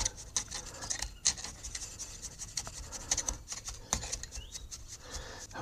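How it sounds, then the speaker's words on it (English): Sand being rammed around a wire for a CO2 silicate core used in casting a piston for a 1910 Brush car: gritty scraping and rubbing with irregular taps and thuds, close and fairly quiet, no talking. "And we'll ram some of the sand around it."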